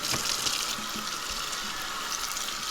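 Warm water runs steadily from a tap over a bulls-eye tie-dye tee being rinsed in a sink, a continuous close splashing hiss with no talk.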